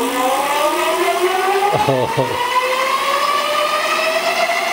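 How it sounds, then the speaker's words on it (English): Yoto Leopard e-bike hub motor spinning at full throttle with no load on pedal assist 5, a loud steady electric whine rising in pitch throughout, close, with a brief exclamation from a voice partway through. "This is with no load on the motor, but full throttle, pedal assist 5."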